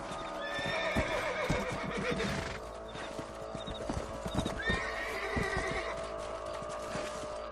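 Video game audio from Red Dead Redemption: hooves clip-clop rhythmically as horses move along, with a horse neighing, over a busy background of outdoor ambience.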